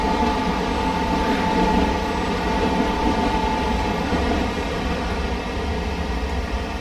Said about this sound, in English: I do hear a train. There's a southern train.